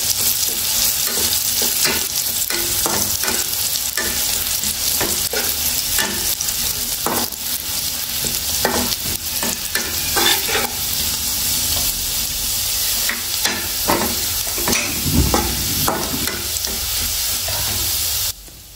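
Chopped garlic fries in hot oil for a lentil and bottle gourd dish, giving a continuous loud sizzle broken by stirring scrapes, with no voices.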